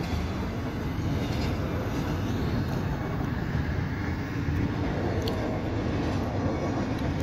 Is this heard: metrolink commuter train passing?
yes